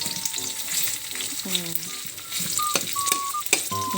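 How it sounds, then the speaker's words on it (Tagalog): Onions sautéing in a pan, a loud crackling fry with a spoon scraping and stirring through them, plus brief tonal squeaks from the utensil against the pan, close up. "Nilagay ko na din yung sibuyas. Halo-haluin lang saglit."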